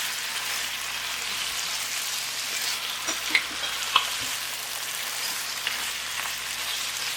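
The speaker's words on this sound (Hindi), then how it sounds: "चिकन को उस वक्त तक हम फ्राई करेंगे जब तक पिंक से वाइट ना हो जाए" Chicken pieces frying in oil for a karahi, a steady close sizzle with a few sharp crackles and pops from the pan.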